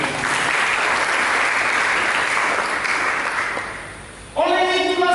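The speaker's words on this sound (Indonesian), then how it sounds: "Berikan tepuk tangan dulu." A church congregation breaks into dense, sustained applause during a Sunday sermon, loud and continuous before fading, then cut off abruptly by a bright tonal sound at the end.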